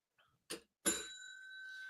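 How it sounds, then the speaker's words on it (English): A bell rings once on a podcast set, preceded by a faint tap and a short knock, then a clear, sustained metallic tone that hangs and rings on steadily without talk. "hold on, I got a bell."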